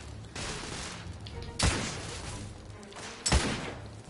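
Blind-fire gunshots in The Order: 1886, two sharp loud reports spaced about a second and a half apart over a low rumbling game background.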